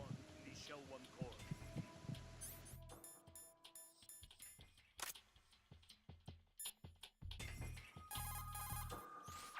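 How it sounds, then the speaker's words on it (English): Amplified heartbeat of a hostage wearing a pacemaker, picked up with a directional microphone in Metal Gear Solid 2, heard as faint repeated thumps among scattered game tones and beeps. "His heartbeat should sound different from other people's, so use the directional microphone to locate him"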